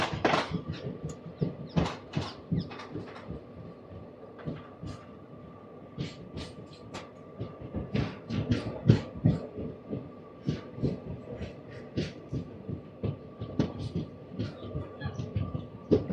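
Bikaner Superfast Express 12457 on the Delhi–Bikaner desert route, near Sri Dungargarh station, sounding as a steady rolling rumble with repeated clacking wheel beats and knocks throughout, close and moderately loud.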